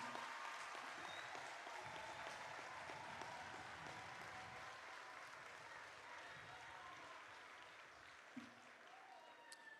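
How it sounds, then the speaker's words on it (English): Sustained applause from an audience at a 2024 community college graduation ceremony as the graduates stand, a broad steady wash of clapping across the whole stretch that slowly fades a little toward the end. "invite our audience to give you a rousing round of applause on this your graduation day"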